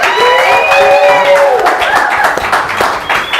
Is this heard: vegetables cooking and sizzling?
no